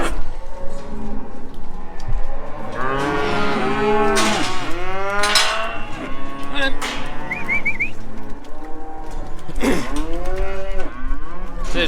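Cattle, mainly breeding heifers, moo loudly and repeatedly on a farm, several long overlapping calls close by, with a brief whistle and steady background noise.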